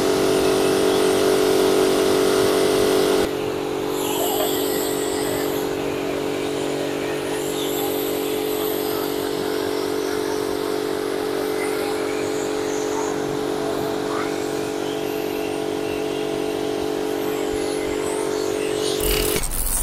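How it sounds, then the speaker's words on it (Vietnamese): A Toàn Phát TB3000 3000-watt household pressure washer for car cleaning, running with a loud steady motor hum and tonal whine that shifts after a few seconds and then continues evenly before cutting off. "Sau khi đã test máy xong thì bà con có thể thấy rằng máy hoạt động rất êm ái cũng như là bền bỉ"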